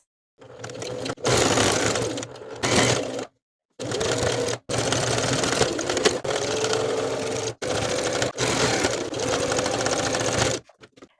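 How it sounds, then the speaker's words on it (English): A sewing machine edge stitches a back pocket onto jeans, running in several long bursts of steady whirring separated by brief pauses, close and loud with no talk. "Edge stitch the pocket in place along the side and bottom edges."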